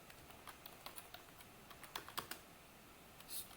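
Go code is typed on a computer keyboard, a quiet irregular patter of close key clicks with small pauses, set against faint room hiss and no voice.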